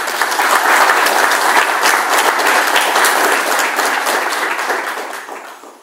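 Warm applause from an audience at a university ceremony, welcoming the director of the Universidad Veracruzana Intercultural; dense steady clapping that holds loud for several seconds, then fades.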